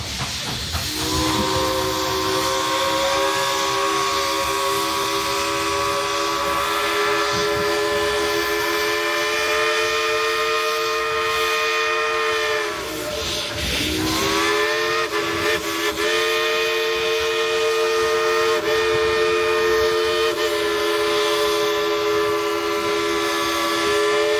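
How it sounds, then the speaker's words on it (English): A loud steam train whistle played as a tune at Dollywood blows continuously for a long stretch with a brief dip midway, breathy hiss mixed into its bright, sustained chord. "Would you like to hear the engineer play a tune on that whistle up there?"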